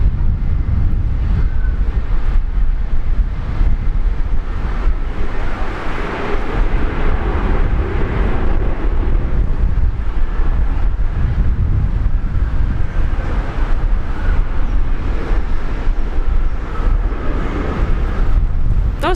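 An Air Canada airliner lands at Brisbane Airport, a steady broadband roar of engines and rushing air, loud and continuous throughout with wind buffeting the microphone and no talking.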